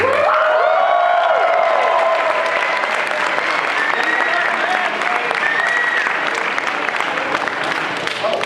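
A crowd at an anime convention opening ceremony bursts into loud, sustained applause with some cheering for a guest taking the stage, and a few voices call out over the clapping.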